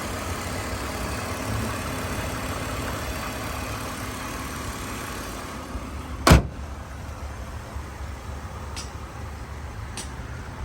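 A 2001 BMW 330ci Sport with a freshly tuned engine idles steadily and close by, a continuous even drone, broken around the middle by one sharp clunk like a car door and a couple of faint ticks afterward.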